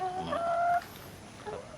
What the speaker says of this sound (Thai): นี่เขาเรียกว่าไก่ไข่อารมณ์ดีนะฮะ